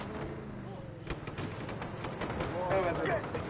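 Rapid gunfire and explosive bursts from a Just Cause 3 firefight, dense and continuous, building louder toward the end with someone talking over the shooting.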